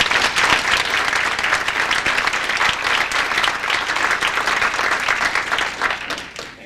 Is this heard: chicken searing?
no